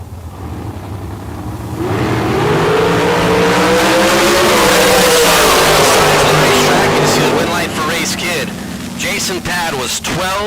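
A hot rod launching at a bracket drag race, engine roaring up loudly and holding a strained wail before easing, with a track announcer talking over it.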